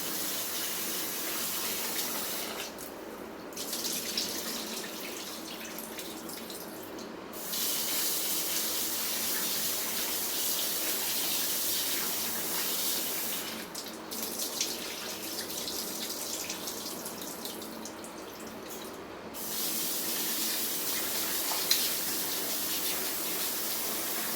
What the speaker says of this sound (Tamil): எடுத்துட்டு அதுக்கப்புறம் நம்ம நல்லா அலாசிட வேண்டியதான்.